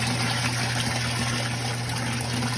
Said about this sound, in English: right now we are filling this with water